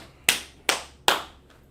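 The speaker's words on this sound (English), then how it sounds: "clap it up" Three sharp bursts of audience clapping at a religious teaching gathering, evenly spaced about 0.4 seconds apart, each a crisp bright smack decaying quickly, with a faint fourth clap trailing off; no talking over them.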